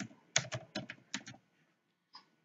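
A password is typed on a computer keyboard, a quick run of close crisp key clicks in uneven rhythm, then a pause and one final keystroke, with no voices.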